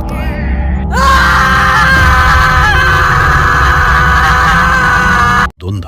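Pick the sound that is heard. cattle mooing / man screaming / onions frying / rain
man screaming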